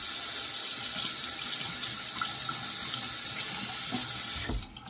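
A tap runs steadily into a sink while something is rinsed off, a loud continuous splashing rush that cuts off right at the end.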